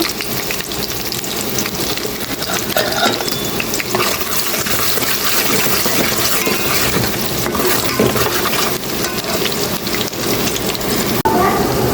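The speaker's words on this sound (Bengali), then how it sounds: "এই তো তেল গরম হয়ে গেছে দিয়ে দিলাম চিংড়ি মাছ রান্না করবো" Raw prawns hit hot oil in a home kitchen pan, setting off a loud, dense sizzle and crackle of frying that stays steady and close throughout, with occasional scrapes and stirring clatter.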